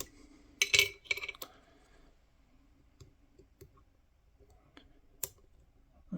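A lock pick works the pins of a lock held upside down, giving scattered faint metallic clicks and small taps, with a couple of louder clusters near the start and one sharp click later.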